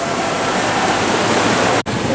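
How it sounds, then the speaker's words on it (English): Rushing water streams of a fountain feature along the San Antonio River Walk inside the Hyatt Regency atrium, a steady broadband splash that stays loud and constant, with one brief dip near the end. "Another awesome water feature here. Looks like you walk right over the streams."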